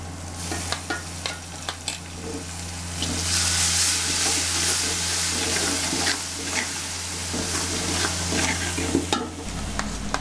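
Red chillies and chopped green chillies frying in a pan for chicken biryani, a close sizzle with scattered stirring clatters, swelling louder in the middle before settling back to a softer crackle.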